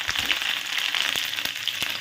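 Five-spice seeds, green chilies and bay leaves fry in hot mustard oil, making a close, continuous sizzle with a few sharp pops and crackles scattered through it.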